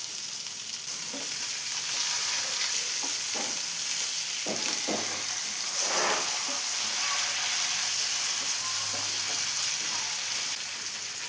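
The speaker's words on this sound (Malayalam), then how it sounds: "ഇനി ഈ സൈഡും കൂടെ ഒന്ന് ഫ്രൈ ആയി വരുന്നവരെ വെയിറ്റ് ചെയ്യും" Fish shallow frying on its second side in a pan with curry leaves, a continuous even sizzle with occasional soft pops and crackles over several seconds.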